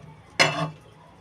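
A metal lid drops onto a cooking pot of prawn and kochur loti bhapa with a single bright clank that rings briefly, then fades into quiet kitchen background.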